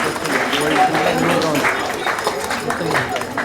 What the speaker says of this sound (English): Everyone, a huge round of applause.